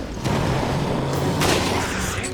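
Rifle fire against the Draghignazzo creature in Resident Evil Revelations, heard as loud, booming, reverberant shots that run together into a dense roar, with no talk.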